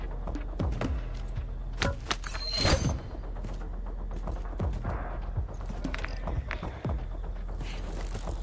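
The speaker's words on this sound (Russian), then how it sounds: "Возле внедорожника много коней." Irregular hoofbeats clop and thud over a steady background hum, with sharp clatters scattered throughout, horses running in the video game Call of Duty: Modern Warfare 3 (2023).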